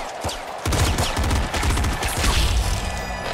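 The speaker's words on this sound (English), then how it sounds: "What's a pop gun? Any good?" Pop gun firing in the video game Nuclear Throne: a fast, dense stream of punchy, overlapping shots that rattle on steadily for several seconds, loud and close, with no talking.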